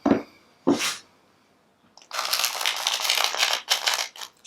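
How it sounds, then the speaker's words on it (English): Two short sharp sneezes from a dog close by, a brief pause, then a stretch of rustling and shuffling noise. "It's my dog sneezing."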